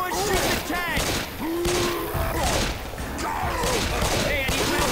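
Gunfire at the Tank in Left 4 Dead 2 rattles constantly in a loud, chaotic fight, with voices shouting over it.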